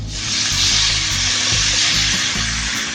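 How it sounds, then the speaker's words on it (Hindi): Water goes into a pan of sautéing mango seasoned with rock salt and turmeric, making a loud, close, steady hiss and sizzle with faint knocks, and no one talks. "अब हम इसमें डालेंगे पानी।"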